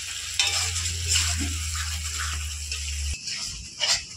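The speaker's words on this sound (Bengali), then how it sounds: "এবার কিছুক্ষণ মশলাটা ভালোভাবে কষিয়ে নেব।" Spice masala for a mutton curry is stirred and fried in a pan, with soft scraping strokes and a continuous sizzle over a low steady hum that cuts off near the end.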